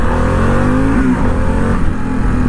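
A 2021 Harley-Davidson Pan America motorcycle engine revving while riding, a loud continuous mid-pitched engine drone with a rising tone that sits close, wind noise blended in and no talking.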